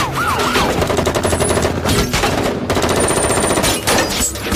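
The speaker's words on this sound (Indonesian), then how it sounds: "pihak kepolisian telah tiba dan terjadilah adu tembak" Sustained automatic gunfire from a police shootout with bank robbers in the film Den of Thieves, dense rapid bursts filling the whole stretch, loud and continuous with no voices.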